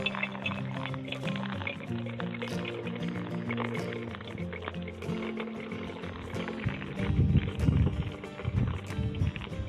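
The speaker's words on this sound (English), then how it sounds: "That is the sound of fresh brewed coffee." Water trickles and splashes steadily through a collapsible pour-over coffee cone, a continuous close-up pouring sound that swells slightly louder near the end.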